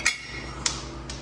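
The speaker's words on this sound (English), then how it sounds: "And there goes my socket halfway across the shop." A metal socket dropped on a shop floor while working on a 2016-2021 Honda Civic 1.5T starter, ringing metallic clinks as it hits and bounces away, three bright strikes fading in loudness.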